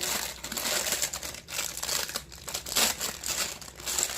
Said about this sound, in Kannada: ನಿಮಗೆ ಕವರಲ್ಲಿ ಬೇಕಂದ್ರೆ ಈ ಥರ ಕವರಲ್ಲಿ ಹಾಕ್ಬಿಟ್ಟು